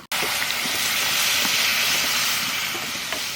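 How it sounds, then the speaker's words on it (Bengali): Hot water hits browned, sizzling duck curry in a pan, setting off an abrupt, loud burst of hissing steam that continues steadily and evenly throughout. "মাংস কষানো হয়ে গেছে এখানে গরম জল দিয়ে দেবো"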